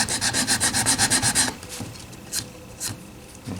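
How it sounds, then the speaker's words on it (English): Sandpaper works a wooden Guild Starfire guitar neck with about ten quick, rhythmic rubbing strokes, close and loud, followed by a few slower, scattered scrapes. "Sandpaper."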